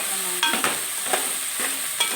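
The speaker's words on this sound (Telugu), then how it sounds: "కలబెడుతున్నాను." Chili powder and turmeric are stirred into okra frying for a curry, with a soft steady sizzle broken by several scraping spoon strokes.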